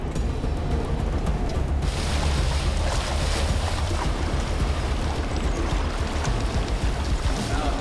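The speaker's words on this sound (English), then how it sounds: "Here we go for our first creek crossing." Truck towing a trailer splashing through a creek crossing, a continuous loud rush of churning water and engine rumble with wind buffeting the microphone.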